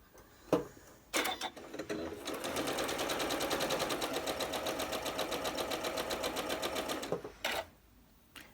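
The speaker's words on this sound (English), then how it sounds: "So we're going to sew that seam first." A sewing machine stitches a quilt block seam, starting with a couple of short bursts, then running steadily for several seconds in a fast, even mechanical chatter before stopping, close up.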